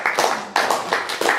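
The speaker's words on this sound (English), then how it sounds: "Gavin, round of applause please." A few people clap in a round of applause at a quiz night, sparse and uneven close hand claps in short bursts, with no talk over them.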